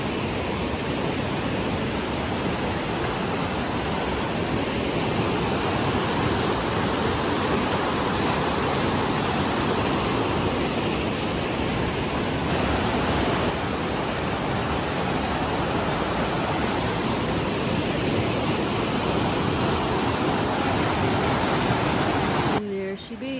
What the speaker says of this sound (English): Water coming very strong underneath it.